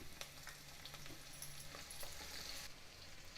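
Garlic and sliced green chillies fry in hot oil in a pan, giving a steady, close sizzle with occasional stirring clicks and no voices.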